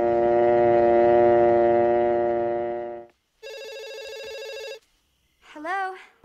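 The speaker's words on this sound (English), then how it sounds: "Then remove the receiver and listen for the dial tone." A telephone dial tone sounds as a steady, continuous buzzing hum for about three seconds. After a short gap comes a brighter ringing burst, then a brief warbling tone, with no voices.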